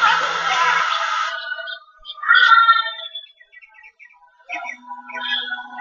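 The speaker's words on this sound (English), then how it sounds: "My poor bird, I lowered the gain on my bird." A bird chirps in short, bright calls: a dense burst at the start, then scattered tweets with gaps between them, fairly close and clear with no talking.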